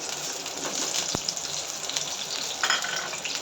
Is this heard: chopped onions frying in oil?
yes